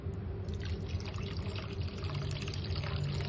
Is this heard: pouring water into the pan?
yes